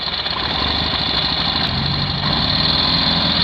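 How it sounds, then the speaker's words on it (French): A sidecar motorcycle engine with a faulty starter idles close by on a road trip in Borneo, a steady loud rumbling hum with an even throb throughout and no talk. "J'ai mon démarreur qui merde."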